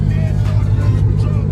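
A Dodge Hellcat SRT engine idling up close, a loud, deep, steady burbling rumble, with brief faint talk over it.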